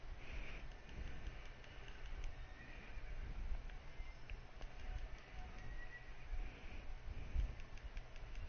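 A horse in the Dynasty Warriors 8 video game whinnies repeatedly while hooves clip-clop steadily underneath, fairly quiet and continuous with no one talking.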